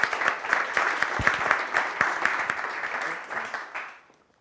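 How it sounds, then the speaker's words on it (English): Audience applause for speakers at the end of a growth week event in Berlin, a steady crowd of clapping hands holding for about four seconds before tapering off to silence. "again, round of applause."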